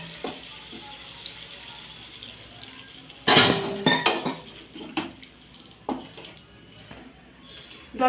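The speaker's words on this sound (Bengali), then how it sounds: "এর মধ্যে আমি জল দিয়ে দেবো" Water goes into a pan of drumstick curry with coconut, a bright splashing rush followed by scattered clanks of a utensil against the pan and a soft background hiss.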